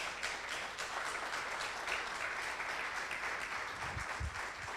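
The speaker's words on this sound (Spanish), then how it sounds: "Denle un aplauso al Señor por eso." Church congregation applauding during a sermon, a soft, steady wash of many hands clapping heard from a distance, with low thumps near the end.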